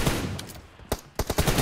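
Rapid gunfire in a shooter video game, loud close bursts of automatic shots followed by a few sharp separate reports in quick succession.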